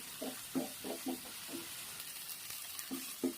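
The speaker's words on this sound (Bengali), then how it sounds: "মশলা ইতিমধ্যে ভাজা হয়ে গেছে" Spices fry in a little oil and water in a pan, a quiet steady sizzle broken by soft, regular knocks and scrapes of stirring.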